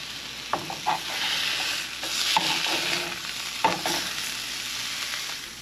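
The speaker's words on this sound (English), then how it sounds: "these burgers are getting ready to flip" Burgers fry in a pan at a campsite with a strong, close sizzle, broken by several clanks and scrapes from a utensil. No one talks.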